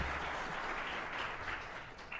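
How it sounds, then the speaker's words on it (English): Audience applause for a panel at a conference discussion, a soft, distant, steady patter of many hands clapping that stays faint and even throughout. "let's give this group a round of applause"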